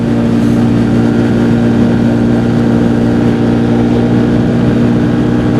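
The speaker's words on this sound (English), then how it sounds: "This is a single overhead cam engine," A 2015 Arctic Cat 500 EFI ATV with a single overhead cam engine runs loudly and steadily during a test drive on a soft road, a constant drone with no talk.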